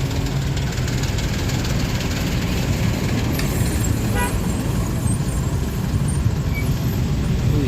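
A truck rolls past on a congested road during the Lebaran homecoming traffic between Tegal and Brebes, its steady low engine rumble and road noise filling the scene with a faint horn-like tone partway through, heard from inside a moving vehicle.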